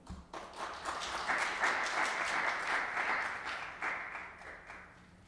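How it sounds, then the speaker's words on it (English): Audience applause at a high school poetry recitation competition, a steady full round of clapping from a crowd in a hall that holds for several seconds and tapers slightly at the end, with no speech over it. "a round of applause for all of our wonderful reciters"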